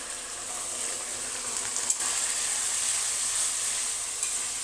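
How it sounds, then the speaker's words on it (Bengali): Soy, tomato and chilli sauces with a little vinegar poured into a hot pan of capsicum and onion for chilli fish, giving a steady, loud, close sizzle with one brief clatter midway. "আমি এখন সসগুলো দিয়ে দিচ্ছি।"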